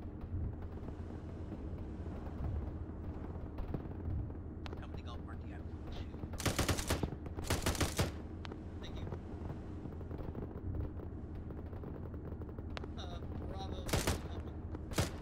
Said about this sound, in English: There's friendly infantry around there shooting at them, too.